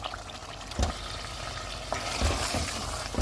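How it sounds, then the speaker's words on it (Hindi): Beef handi with fenugreek fries in a pot, a constant oily sizzle broken by several scraping stirs of a spoon against the metal, close up and without speech. "2-3 मिनट तक इसको भून लेंगे।"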